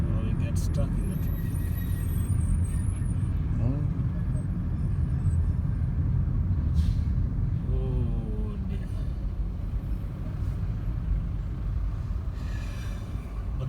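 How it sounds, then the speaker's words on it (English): A taxi sits stuck in Nairobi road traffic, surrounded by a steady idling engine and roadway hum with passing vehicles and a hiss like an air brake, while people talk inside throughout. "Oh, we get stuck in the traffic."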